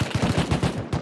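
Rapid automatic AK rifle fire in the survival game Rust, a tight burst of about ten close, loud shots in quick succession.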